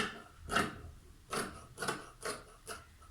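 Scissors cut through cotton jersey fabric for a pair of summer trousers, giving five separate close snips spaced roughly half a second apart, each a brief rasping crunch, with no talking.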